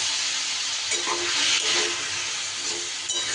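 Turmeric and chili powder stirred in a hot pan with a splash of water, a steady close sizzle and hiss with faint scraping of the spoon throughout.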